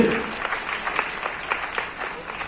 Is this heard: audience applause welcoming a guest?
yes